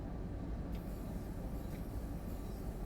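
A train rumbles steadily while coasting in Train Sim World 4 on the Salzburg–Rosenheim line, a dense low, continuous drone that stays even throughout, with no voices.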